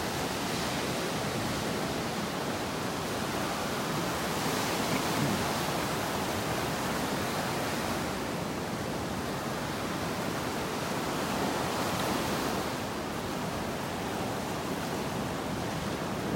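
Ocean surf rolls onto a beach in North Naples, Florida, a constant loud roar of breaking waves with gentle swells every few seconds and some wind noise on the microphone, no voices.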